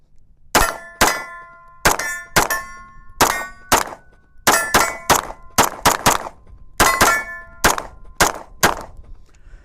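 MAC 9 DS pistol with a 4.25-inch compensator firing from a 17-round magazine at a range: a rapid string of about a dozen sharp, loud reports in quick irregular bursts, each with a ringing metallic tail.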